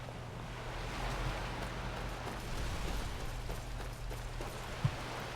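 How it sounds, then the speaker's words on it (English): Ocean waves washing along a beach in the game Skyrim, a quiet, steady wash of surf with a soft low hum underneath and a faint thump near the end. "I love that noise of the ocean along a beach."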